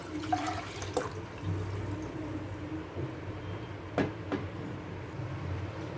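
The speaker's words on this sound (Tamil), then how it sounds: "அந்த அரிசி கழுவுன தண்ணியை வந்து நான் வந்து எடுத்து வச்சுருக்கேன் அதை வந்து நம்ம இதில் சேர்த்துக்கலாம்" Rice-washing water poured into a cooking vessel for agathi leaf juice, a steady low pouring rush with a few soft clinks and drips, close and moderately quiet, with no talk.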